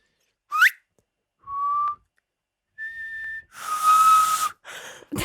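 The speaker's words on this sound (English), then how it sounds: "Can you whistle?" A person whistles a few short separate notes with gaps between them, some rising and some held, close and clear; the last held note sits over a breathy hiss.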